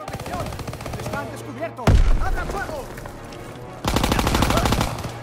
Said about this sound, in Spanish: tiro la granada para cargarme la maderita esa de los cojones